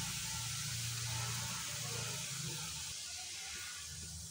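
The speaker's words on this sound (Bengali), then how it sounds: "তো জলটা ফুটছে" Water heating to a boil in a frying pan set up for cooking oil-free aloo kulcha, a steady soft hiss with faint low bubbling throughout, close and continuous with no talk.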